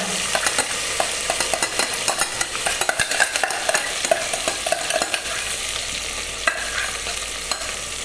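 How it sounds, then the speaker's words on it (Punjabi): Onion, ginger and green chilli masala roasting in a pan, a steady close sizzle broken by repeated scraping stir strokes throughout, with no voices. "ਮੋਟਾ ਪਰ ਹਲਕਾ ਜਿਹਾ ਭੁੰਨਾਂਗੇ"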